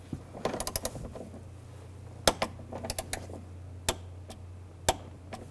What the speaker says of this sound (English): Now we'll tighten this bolt down. And torque this to 17 foot-pounds.